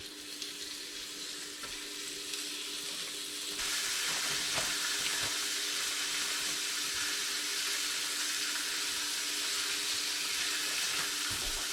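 Seasoned razor clams laid out over a fire sizzle and crackle steadily, the hiss swelling louder partway through and holding at a close, continuous level with occasional small pops.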